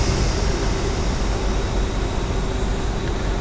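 Locomotive in the Railworks 3 Train Simulator game pulling away under power, a steady dense rumble with a constant electrical whine, loud and unbroken, with no voices.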